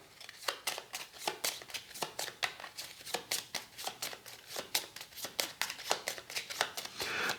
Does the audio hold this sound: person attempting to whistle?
no